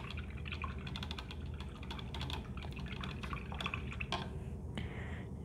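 A paintbrush swished and tapped in a water cup while painting with acrylics, giving quick splashy drips and clinks close up, steady and fairly soft throughout.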